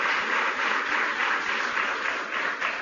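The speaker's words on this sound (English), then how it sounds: "Give yourselves a round of applause." Audience applause at a Young America's Foundation student conference in Washington, D.C., a dense, steady roar of clapping filling the whole stretch without a break.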